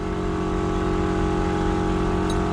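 A tractor engine runs steadily and quietly at idle, a continuous close mechanical hum with a faint chain rattle, heard while a farm trailer is serviced before haymaking.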